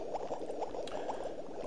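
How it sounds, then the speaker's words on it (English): Soft continuous bubbling from a Minecraft game with the Thaumcraft modpack, a steady low gurgling loop with no talk over it. "That's really annoying, the bubbling sound."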